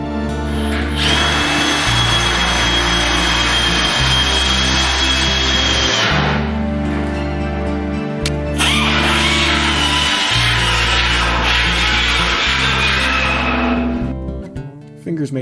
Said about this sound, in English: That little grinder was so noisy.